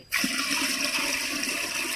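Water poured steadily into a cooking pot set up for boiling rice, a continuous close splashing rush that starts abruptly and runs without a break.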